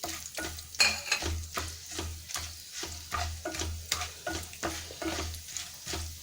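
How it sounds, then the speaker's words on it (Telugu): Mustard seeds and lentils fry in hot oil in a pan for an aloo curry tempering, with steady sizzling and repeated sharp crackles and pops, close and fairly loud, without any voices. "ఆవాలు సౌండ్ వచ్చే వరకు మనం వీటిని వేయించుకుందాము."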